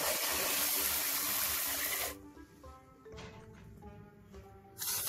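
Water runs noisily into a toy car wash for a couple of seconds, a bright close hiss that stops abruptly, followed by quieter trickling and faint handling before a second short gush.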